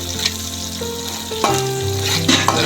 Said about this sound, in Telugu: బాగా మసాలాలు కూడా వేసుకున్నానండి, కలుపుకుంటున్నాను.